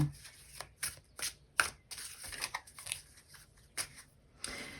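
A Fenestra tarot deck being shuffled by hand, giving bursts of riffling card flutter and soft slaps in an irregular rhythm, close and fairly quiet, with no talking.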